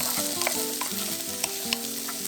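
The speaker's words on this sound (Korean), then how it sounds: "양파와 당근 넣고 볶아주세요." Ham, sausage, onion and carrot stir-frying in a pan, a steady close sizzle with repeated scraping strokes of a utensil against the pan, no voices.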